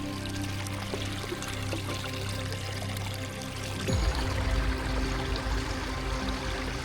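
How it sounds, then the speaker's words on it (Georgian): Water from a mountain stream pours into a container being filled, a close, steady trickling that turns into a deeper, fuller gurgling partway through as the flow changes. "საკმაინც ავავსოთ წყალი."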